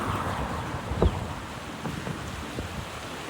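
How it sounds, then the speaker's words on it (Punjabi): Fast-flowing floodwater of the swollen Beas river in Punjab rushes as a steady, broad roar with wind buffeting the microphone and a few brief knocks, loud and continuous throughout. "ਪਾਣੀ ਦਾ ਬਹਾਅ ਬਹੁਤ ਜ਼ਿਆਦਾ ਤੇਜ਼ ਆ"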